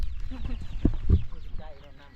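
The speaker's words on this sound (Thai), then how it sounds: "โอ้ไก่" A chicken clucks in a rural Thai village, short close clucks over outdoor background noise while a person talks nearby.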